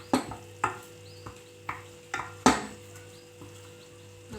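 Onions and tomatoes frying in a pan are stirred with a utensil, giving a series of sharp knocks and scrapes at irregular intervals over a faint, low sizzle.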